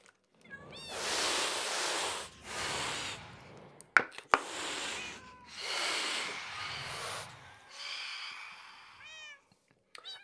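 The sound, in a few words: cat meowing in video game Minecraft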